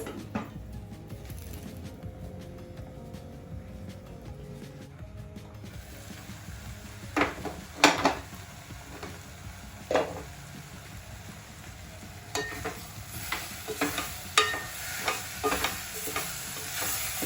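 Vegetables fry with masalas in a pot on a medium flame for prawn oats khichdi, a steady low sizzle running under intermittent clinks and scrapes of stirring, close by, no talking.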